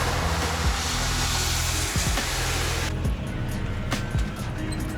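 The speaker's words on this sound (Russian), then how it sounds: "Да шумят машины." Steady, loud broadband road roar of cars on the M5 highway during a snowstorm, with a few passing swells and thuds and no clear speech.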